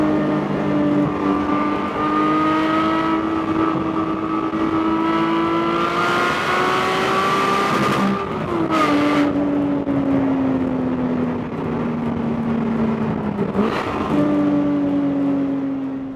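A Porsche Cayman GT4 sports car with a manual gearbox drives and accelerates, its engine note climbing steadily, dropping at a gear change around the middle and rising again, loud and continuous from inside the car.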